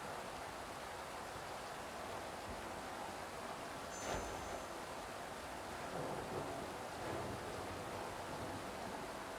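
Steady rain pours down with a low rumble of thunder in the dark pixel-art game Inmost, a continuous wash of downpour with one brief, slightly louder crack near the middle.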